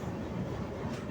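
The Kota–Dehradun Nanda Devi Superfast Express, an electric-hauled train at a station platform, gives a brief, steady low rumble of rolling rail noise.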